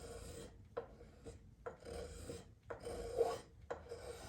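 Spokeshave shaping wood in a series of short rasping strokes, about five distinct scrapes separated by brief pauses, close and quiet, with no talking.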